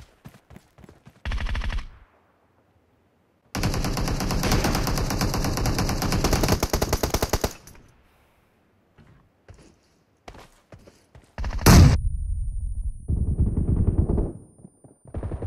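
Automatic and rapid gunfire from a team deathmatch shooter game on an iPad Pro, loud dense bursts of a few seconds each, separated by quieter stretches with scattered single shots and clicks.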